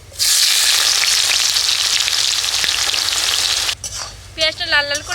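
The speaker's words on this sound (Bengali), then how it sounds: "এ দেখুন পেঁয়াজটা আমি হালকা লাল লাল করে ভেজে নিয়েছি" Loud, steady sizzle of chopped onions frying in hot oil with cumin fills most of the clip, then cuts off abruptly, followed by a few short clinks and faint sounds.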